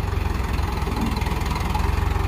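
Tractor engine running at a scrap yard while loading a bin, a loud, close, steady throbbing diesel drone with a regular pulsing rhythm and no talk.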